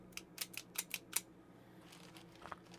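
A zip tie gun tool cinches and snips ties, with a quick run of five or six sharp clicking snaps close by, then quieter rustling and one more faint click.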